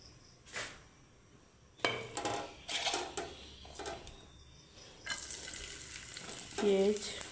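Onion, garlic and shrimp frying in oil, with intermittent stirring clatters against the pan, then a fuller, louder sizzle building toward the end, close by.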